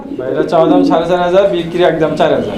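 A breeding pair of pigeons, a male and a female, coo steadily through the moment in a series of low, rolling calls, close and fairly loud, with a person talking over them.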